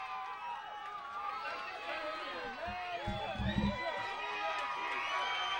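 A baseball crowd at a Newport Gulls versus Torrington Twisters game cheers and shouts with rising excitement on a two-strike count, a dense wash of distant voices and whoops with a brief low thumping burst midway.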